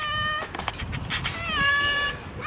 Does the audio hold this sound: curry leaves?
no